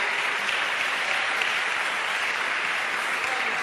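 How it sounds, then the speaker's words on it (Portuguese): A church congregation claps steadily at an evening worship service, a dense, even wash of hands sustained throughout without a break, close and full. "Aplaude ele mais, vai."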